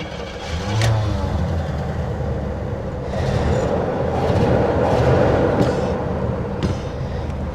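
A 1979 Cadillac Coupe DeVille, parked for 27 years, runs after its gas pedal is pumped, a rough steady engine rumble that swells with revving and settles back, with a few clicks along the way.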